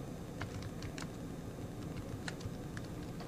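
Typing on a computer keyboard at a desk, a loose run of light, close key clicks scattered over a soft steady background hum, with no voices.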